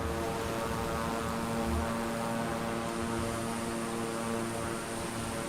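The 350i airplane engine in Microsoft Flight Simulator gives a steady, loud, unbroken drone with a constant whining tone that holds level throughout, with no voices over it.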